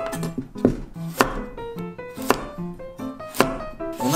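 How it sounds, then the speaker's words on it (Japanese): A knife chops steadily on a cutting board, crisp close taps in a quick even rhythm as vegetables are julienned into thin strips for kakiage. "じゃあ、かき揚げなんでね、千切りにしていきます"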